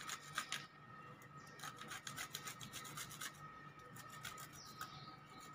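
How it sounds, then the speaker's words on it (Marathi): Raw pistachios are grated for homemade royal rajbhog ice cream, making quick, close, faint rasping strokes that come in short bursts. "हे जे कच्चे बदाम की कच्चे पिस्ता आहे ना, हे थोडेसे पिसून घेते मी."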